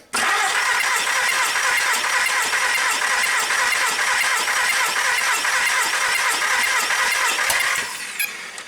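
A car engine cranking on the starter during a cylinder compression test, a loud, even, rapid whirring churn that runs without pause for about eight seconds and then cuts off, recorded up close with no talk.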